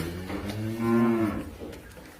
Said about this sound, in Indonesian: Sapi putih, sapi peranakan ongol.